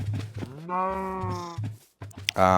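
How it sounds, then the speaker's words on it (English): Sheep bleats and cattle lowing from a farming video game, a long wavering animal call in the middle followed by a shorter bleat, with a steady low background hum throughout. "We're going to continue to breed the sheep, the cows."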